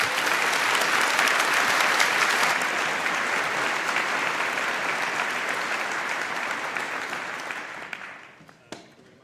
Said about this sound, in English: So give a round of applause to Matthias.